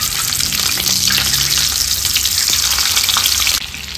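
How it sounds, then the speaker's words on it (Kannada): Eggs fry in a pan of roasted masala with a loud, constant close-up sizzle and crackle that drops away sharply near the end. "ಮಸಾಲೆ ಹುರಿದ ಪಾತ್ರೆಗೆ ಮೊಟ್ಟೆ ಹಾಕ್ಕೊಂಡು ಒಂದು 5 ನಿಮಿಷ ಫ್ರೈ ಮಾಡ್ಕೊಳ್ಳೋಣ"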